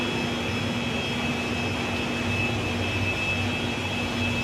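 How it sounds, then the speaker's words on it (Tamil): A compressor runs continuously aboard a gas-carrier ship, giving a steady, unbroken mechanical drone with a faint high whine throughout, close and even in level, with no voices. "அதனால் அந்த கம்ப்ரஸர் ஓடிக்கிட்டே இருக்கிறது வந்து அந்த சவுண்டு"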